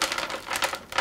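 Hands working loose the root ball of a potted plant seedling, crinkly crumbling and rustling sounds, close and fairly loud, in a short burst.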